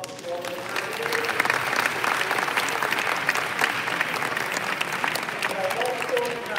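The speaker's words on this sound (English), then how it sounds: "please give a round of applause to all the candidates" Sustained applause from an audience at a presidential candidates' town hall on housing in Nigeria, a dense steady wash of clapping lasting the whole stretch, with faint voices murmuring underneath.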